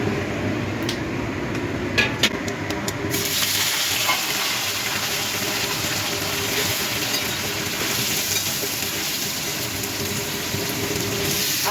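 Panch phoron spices fry in hot oil and ghee, a steady crackling sizzle with scattered pops, close and continuous, after a few sharp clicks at the start.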